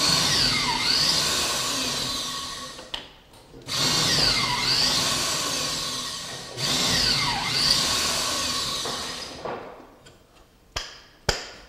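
A power drill bores pocket holes into wooden trim in three long, loud, close runs with pauses between, each winding up and down in pitch, followed by a few sharp clicks and knocks.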